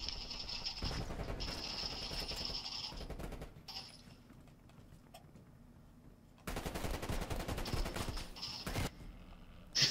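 Rapid automatic gunfire in Call of Duty Cold War prop hunt, loud dense bursts of rattling shots that stop for a quieter stretch and then resume even more intensely, with no talk.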